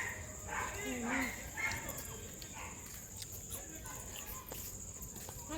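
Dogs bark intermittently in the distance at night over a constant high insect drone, with muffled voices early on.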